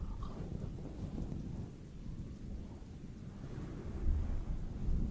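An outdoor thunderstorm rumbles on steadily, deep low thunder rolling under a constant hiss of rain, distant and soft, with a slightly louder swell near the end and no voices.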